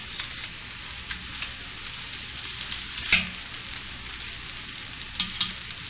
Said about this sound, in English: Sear on one side and sear on the other.